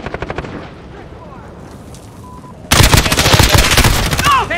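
Rapid automatic gunfire in a Call of Duty Modern Warfare team deathmatch, starting with a light rattling burst and then erupting into a loud, dense sustained barrage of close shots.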